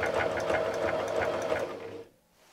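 A sewing machine stitches a fish appliqué on a quilt, a close, steady rapid mechanical whir with regular needle clatter that stops abruptly near the end.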